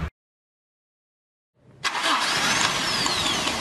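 A vehicle's electric starter motor cranks briefly after a moment of silence, then the engine catches and settles into a steady, close idle.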